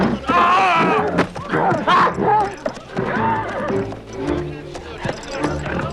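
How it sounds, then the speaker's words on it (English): A horse neighs and its hooves thud and clop amid a tense, chaotic scene, loud and close, with shouting voices mixed in. "Get that horse away!"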